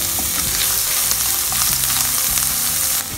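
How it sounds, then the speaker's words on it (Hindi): Chicken steaks fry in a hot pan with a steady, loud sizzle and crackle, plus a few soft clinks of utensils, with no voices. "इनको मैंने 1 से 2 सेकंड तक फ्राई किया है।"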